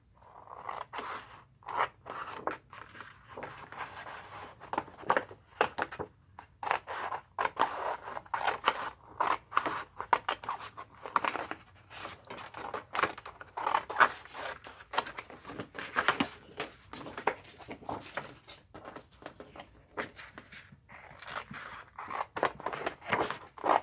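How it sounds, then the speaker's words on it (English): Scissors snip repeatedly in quick, uneven bursts, crisp close-up cuts through paper with brief pauses between runs. "So I'm going to trim this down to about 1 inch on each side."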